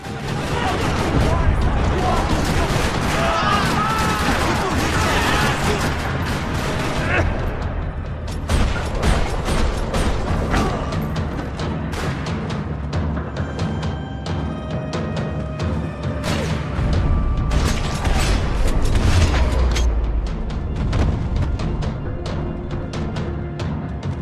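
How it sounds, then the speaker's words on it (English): Rapid bursts of gunfire in Max Payne 3, in a parking lot, rattle almost continuously, with booming shots and crashes layered over a busy, loud soundtrack. "Another parking lot rattling with gunfire."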